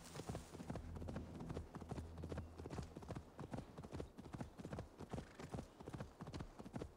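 Horse hooves clip-clop in a quick, steady rhythm, loud and close throughout, with a faint low hum underneath and no talking.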